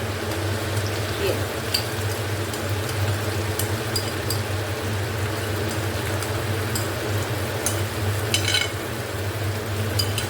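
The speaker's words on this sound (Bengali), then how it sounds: "ভালো করে এটাকে একটু নাড়িয়ে নেব। এটা একটু ফাটবে যেহেতু দই আছে" Yogurt-based gravy for paneer tikka gets stirred in a frying pan, giving a steady low sizzle and bubbling with occasional spoon scrapes and clinks against the pan throughout.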